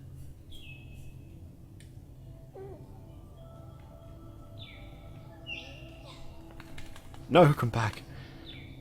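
Bird chirps in the video game Toren, a few short, bright tweets scattered over a quiet ambient backdrop while someone talks.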